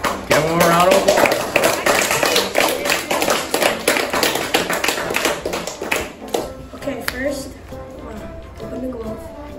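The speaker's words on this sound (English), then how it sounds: "Give them a round of applause." A sixth-grade class applauds after a classmate's how-to demo: dense, close clapping with children's voices mixed in. The clapping is strong for about six seconds, then thins out into scattered claps and chatter.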